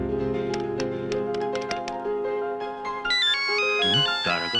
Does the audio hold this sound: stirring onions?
no